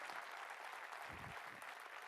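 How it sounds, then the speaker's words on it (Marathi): Audience applause in an auditorium hall during a motivational talk, a brief, faint burst of clapping from a crowd heard at a distance. "एकदा जोरदार टाळ्या वाजवा महाराजांसाठी."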